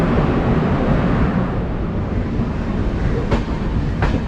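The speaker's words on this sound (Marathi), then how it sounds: "आणि या ट्रेनचं नाव आहे मांडवी एक्सप्रेस" The Mandovi Express, train number 10103, rumbles steadily on its rails with a dense, close, continuous roar and two brief sharp squeals near the end, with no talking.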